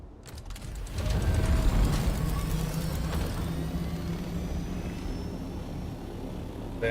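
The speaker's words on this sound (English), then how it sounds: "The helicopter" A helicopter flying in the video game Dune Awakening, a steady mechanical rotor drone that swells in and holds at moderate loudness.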